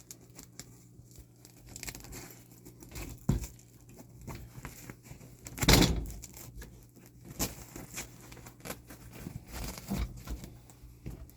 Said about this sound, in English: you have a Velcro that'll go over the top, along the window